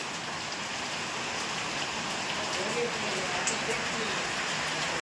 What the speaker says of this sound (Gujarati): હજી શરૂઆત છે વરસાદની